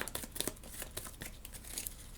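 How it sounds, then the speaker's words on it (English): Quick papery riffling and snapping of a Marvel Legendary game deck being shuffled close up, a busy crackly texture with no voices. "We'll shuffle that up."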